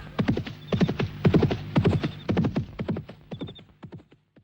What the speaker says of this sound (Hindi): ये चांदनी चौक में घोड़ा कहाँ से आ गया?